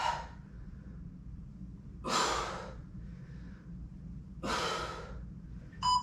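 Forceful breaths during a core workout come in separate bursts, about two or three sharp exhales a couple of seconds apart, close to the mic over a quiet room.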